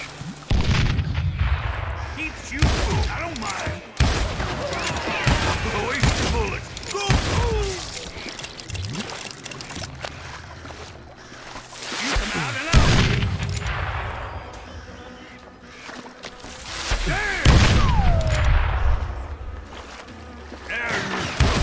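Western-style video game gunfire from Call of Juarez: Gunslinger booms in frequent close, heavy shots and bursts, packed densely over the whole stretch with a voice talking intermittently underneath.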